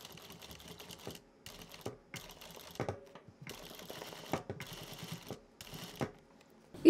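A sewing machine stitches a denim handbag through multiple thick layers, slowly and in short bursts of rapid clicking needle strokes separated by brief pauses, close and fairly quiet.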